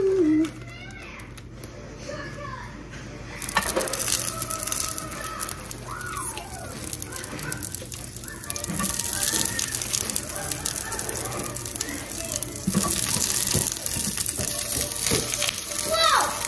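Green beans sizzle and crackle in a hot pan at home, a steady frying hiss with scattered pops. Adults and someone talk over it.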